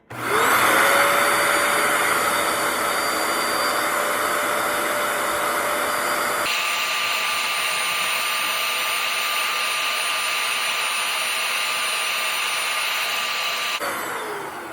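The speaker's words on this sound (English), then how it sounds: "I'm gonna press the red on button on the vacuum" A Bissell ProHeat 2X Revolution Pet Pro carpet cleaner starts up and runs with a loud, steady motor whine and airy rush, shifting in tone partway through before tailing off at the end.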